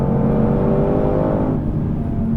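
A 760-horsepower 2020 Shelby GT500 pulls hard up a road, its engine a loud, steady, deep drone held below 5,500 RPM, heard up close with no other sounds.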